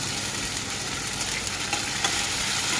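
Ginger paste and tomato pieces fry and are stirred in a pan, giving a steady loud sizzle with faint scraping, close up and without talk.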